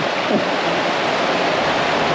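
A Scottish Highland river on the West Highland Way rushes over a submerged river crossing, a loud, steady wash of water that fills the whole moment with no voices.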